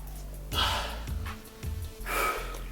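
A person demonstrates breathing in and holding the breath, with two sharp, audible inhalations close to the listener, about a second and a half apart, in an otherwise quiet room.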